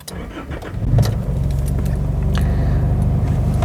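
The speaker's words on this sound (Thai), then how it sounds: "ก็เดี๋ยวเรา สตาร์ทเครื่อง" A Mazda car's U4 engine cranks briefly and catches, then settles into a steady, rumbling idle close by.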